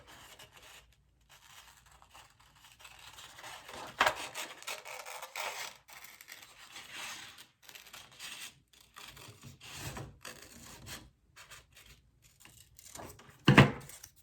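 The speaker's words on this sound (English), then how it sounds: "So I'm gonna cut this wing out." Scissors cutting a paper ladybug wing out, a faint irregular scraping and snipping close by, with soft rustling of paper and one sharper crackle near the end, no talking.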